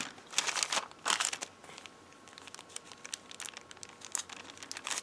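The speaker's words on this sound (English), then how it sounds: "So I just took all these little goodies and tucked them into the envelope" Paper goodies and ephemera pieces tucked into an envelope give a close, soft crinkle and rustle, with bursts of crumpling handling sounds and no talk.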